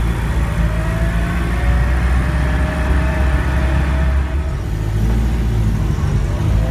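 A 1964 Mini Mk1 drives along with a steady, loud engine drone and road rumble from inside the car, the pitch shifting slightly as it gets underway.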